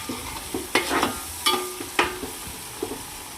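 Mutton curry masala being stirred in a handi: a spoon scrapes and clinks against the pot in several separate strokes over a soft frying sizzle, close and fairly quiet.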